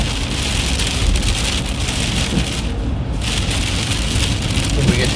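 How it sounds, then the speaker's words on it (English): Steady cold rain pours down during a severe storm, a dense, continuous hiss of drops striking surfaces close by, loud and unbroken for the whole stretch with no voices over it. "this beautiful cold rain now."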